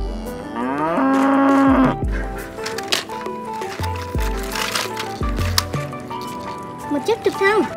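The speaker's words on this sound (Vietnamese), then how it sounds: "Ồ, con bò sữa." A dairy cow moos in a children's vehicle and animal cartoon, a drawn-out lowing call set against bright background music and sound effects.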